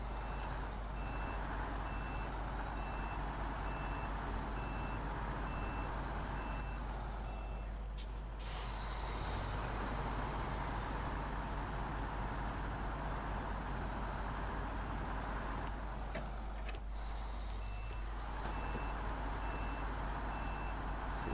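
A truck reverses in SnowRunner, its backup alarm beeping in a steady, evenly spaced high series over a constant low engine drone, with brief breaks where louder mechanical noise cuts in.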